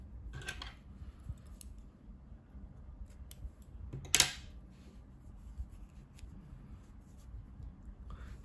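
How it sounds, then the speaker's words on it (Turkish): Scissors snip thread during a crochet flower project, a few faint, sharp cuts spaced apart with one louder click near the middle over a quiet background. "İpliği kesiyorum."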